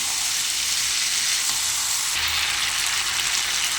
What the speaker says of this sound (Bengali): এবার ভেজে রাখা আলু আর কপি দিয়ে দেবো, দিয়ে ভালো করে কষিয়ে নেব